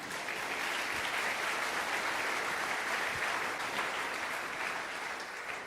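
A church congregation applauds, with dense, steady clapping from many hands sustained evenly throughout, loud and crowded in a reverberant hall.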